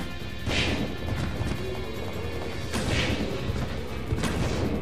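Explosive bow gun blasts in the video game Resident Evil Code: Veronica X, played as Claire: three crashing, booming impacts spaced about two seconds apart over a constant loud rumbling background.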